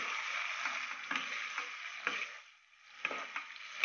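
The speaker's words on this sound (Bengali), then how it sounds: "এবার আমি সসটা দিয়ে দেবো, তৈরি করে রাখা সসটা। ভালো করে আমি মিক্স করে নেব।" Sauce is stirred into frying onion and capsicum for chilli chicken, giving a steady close sizzle broken by repeated scraping strokes of a spoon in the pan.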